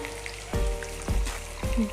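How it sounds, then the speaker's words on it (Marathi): Three sharp bursts of sizzling hiss as hot water hits frying misal masala in a hot pan, each flaring up then settling, spaced about half a second apart. "गरम पाणी घ्यायचं आहे आणि इथे टाकायचं"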